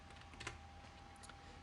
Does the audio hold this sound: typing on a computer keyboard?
yes